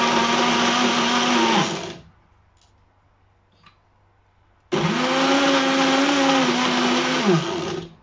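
A countertop blender crushes frozen ingredients for homemade sorbet in two loud, close bursts of high whirring roar separated by a quiet pause, the motor pitch dipping slightly as it churns.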